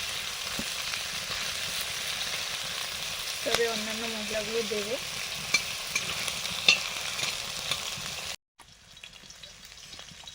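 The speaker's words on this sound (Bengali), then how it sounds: "আলুটাও দিয়ে দিলাম। আলুটা একটু ভাজা হলে" Potatoes fry in a pan with a continuous close sizzle and occasional stirring clicks. A person speaks briefly over it, and near the end the frying sound drops out for a moment before returning more faintly.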